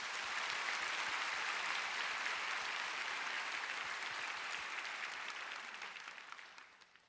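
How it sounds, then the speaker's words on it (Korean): Steady congregational applause at a church prayer gathering, even and fairly distant, holding for several seconds before tapering off and fading out at the end. "박수로 축복하겠습니다"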